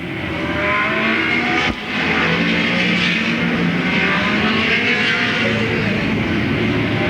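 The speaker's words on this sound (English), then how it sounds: "Lenny LeGrand in car number 20 down the back straightaway" Late model race cars thunder around Louisville Motor Speedway in 1995, a loud continuous engine roar of a pack at speed with rising and falling revs and no voices.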